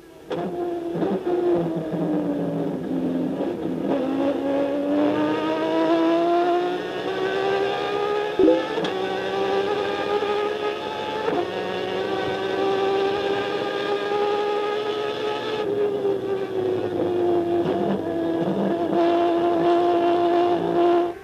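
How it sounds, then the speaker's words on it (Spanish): Onboard a Turismo Carretera race car at Paraná in 2003, the engine drones loud and continuous for the whole stretch, its pitch sliding down and climbing again through gear changes and braking, with no talk over it. "Estamos en el auto de Ramos"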